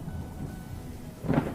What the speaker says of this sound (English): As the rain shower turned into a full rainstorm